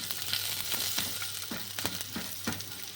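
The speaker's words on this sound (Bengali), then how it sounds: "একটা ছোট সাইজের পেঁয়াজ স্লাইস করে কেটে হালকা করে ভেজে নেবো খালি" Steady frying sizzle of sliced onions in a pan, continuous and close, with occasional soft stirring scrapes and no speech.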